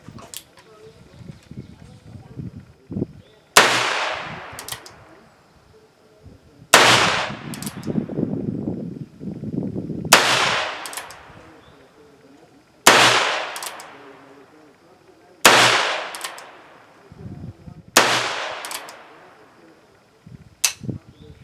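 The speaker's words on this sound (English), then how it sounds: "So I'll shoot another round with this." Six loud gunshots from a Heritage Rough Rider revolver fitted with a 16-inch barrel rifle kit, fired one at a time at intervals of roughly two to three seconds, each a sharp crack with a decaying tail, with faint background noise between shots.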